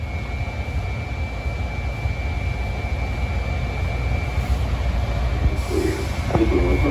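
An automated JFK AirTrain car runs along its track, heard from the head end as a steady near rumble and rolling hum with a thin constant whine, rising slightly toward the end, with no talk.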